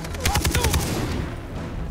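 Rapid automatic gunfire in Far Cry 3, a tight burst of shots over roughly the first second that fades into an echoing tail.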